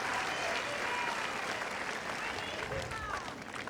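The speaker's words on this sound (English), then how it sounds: "Applause from Fognini, as well as from the rest of the crowd here." A tennis crowd applauds a well-executed drop shot in a professional match, a broad steady clapping that fades slightly toward the end, with faint voices mixed in.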